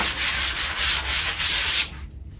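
Sanding a gessoed canvas by hand, close and loud, with about six rhythmic back-and-forth rasping strokes that stop abruptly near the end, no talking.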